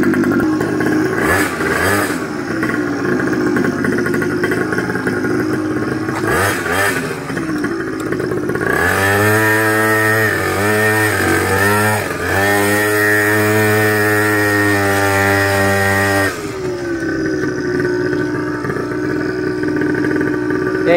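A small custom GoPed motor engine runs steadily at close range with a buzzing idle, then revs up sharply several times in quick bursts before dropping back to idle, with no talking over it.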